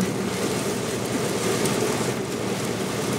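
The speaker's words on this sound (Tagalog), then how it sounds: "May bagyo nga to." Heavy, steady downpour with roaring wind from a storm during an outing to a carnival in Masinloc, a dense continuous wash of rain close by with no talk.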